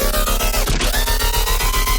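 A monster bass patch built in Serum with a heavy processing chain plays as a dense, loud, distorted growl pulsing in a fast steady rhythm, alone without speech.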